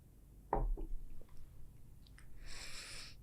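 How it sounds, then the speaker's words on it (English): A person sitting up in a chair takes a drink of water: a few short, close sipping and swallowing sounds, then a quiet room with faint hiss and no talking. "Let me take a drink of water so I can breathe."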